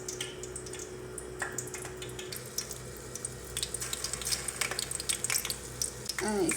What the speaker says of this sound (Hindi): इसी तरह हम सारे स्लाइस को कोट करके अंडे का और फ्राई कर लेंगे